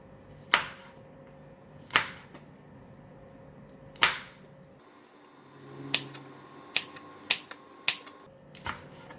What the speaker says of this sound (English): I like to cut it slanting and not too thick, not too thin, just cutting it like that.